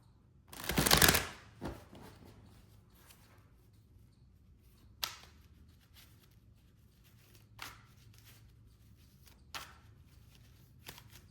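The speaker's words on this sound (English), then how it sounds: "the tarot, we will just shuffle just a little more" A loud burst of tarot cards being riffled and shuffled, followed by a few soft, scattered taps and slaps of cards in a quiet room.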